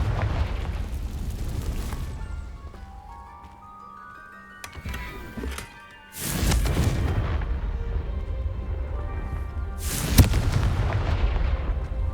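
In the Hogwarts Legacy video game, a Confringo fire spell bursts into loud booming explosions, two heavy blasts with rumbling tails separated by quieter magical shimmering tones.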